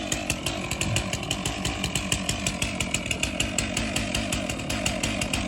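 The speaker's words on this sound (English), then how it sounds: "I just sharpened that saw." A freshly sharpened chainsaw cuts through a wooden board laid over dirt at a building site, its engine buzzing loud and near with a fast, even pulsing chatter that holds unbroken throughout, no voices.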